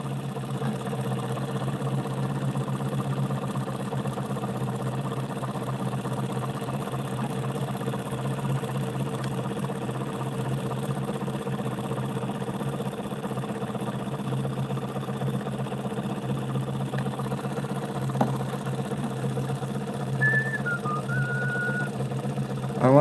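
A homemade pulse motor with coils built from audio components runs steadily, giving a continuous low hum and drone with a faint whine, and a few small clicks near the end.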